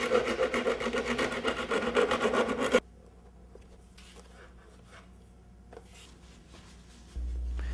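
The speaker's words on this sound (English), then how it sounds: "Then use a file and sandpaper to clean up the openings as needed." A file and sandpaper scrape rhythmically across the openings of a handmade wind turbine blade, a close, fast rasping stroke pattern for about three seconds, then faint scattered rubs.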